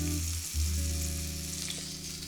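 Duck breast fat renders over low heat in a frying pan, a quiet steady crackling hiss with a low hum underneath and no talking.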